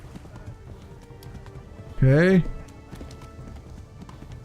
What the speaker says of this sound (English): Keep galloping.